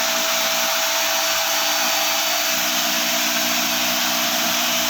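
A vacuum in a pollution scrubber setup runs, a loud, steady, hissing whoosh of suction with a constant hum underneath, close and unchanging throughout, with no talking.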